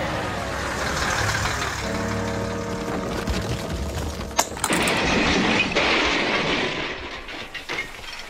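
A quarry lorry loaded with rock rumbles along loudly, then a sudden crash with clattering debris, followed by a continued rolling rattle that fades.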